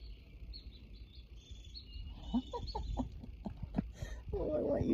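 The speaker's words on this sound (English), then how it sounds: "Chickadee. There's a whole bunch of them up there." Small birds, identified as a flock of chickadees up in the trees, chirp and call in repeated high notes through the clip, with a person speaking nearby and some rustling close by.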